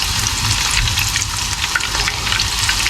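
Squid calamari fry in a pan, turning crispy, with a dense, continuous crackling sizzle throughout and no talking.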